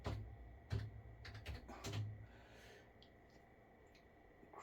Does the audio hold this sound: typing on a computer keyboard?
yes